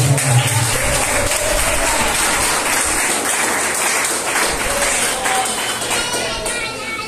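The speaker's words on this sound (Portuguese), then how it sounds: "Pode exaltar o Senhor com palmas" A church congregation claps its praise during an evening service, a dense, loud, continuous wash of many hands that tapers slightly toward the end, with possible voices mixed in.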